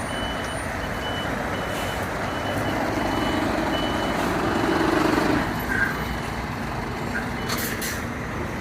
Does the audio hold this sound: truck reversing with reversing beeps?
yes